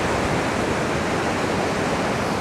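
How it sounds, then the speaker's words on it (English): Rapids on the Leven River rush through a Tasmanian canyon in a steady, loud, broadband roar of moving water that stays even throughout with no voices. "it's basically just rapids"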